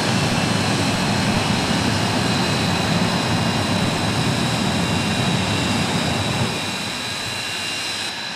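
A jet-powered truck roars at Rockford Speedway during a Night of Thrills event, a loud, steady, close blast of turbine noise that holds unbroken before easing slightly near the end.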